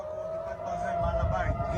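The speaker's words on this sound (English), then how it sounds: "Sirens fill the night sky over Tel Aviv." A wailing air-raid siren holds a steady tone in the distance at night over Tel Aviv while someone talks over it, with some low crowd rumble underneath.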